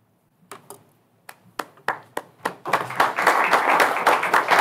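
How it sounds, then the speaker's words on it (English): Scattered claps from a board meeting audience, a few separate hand claps at first that quickly swell into steady applause from the room. "I'll clap"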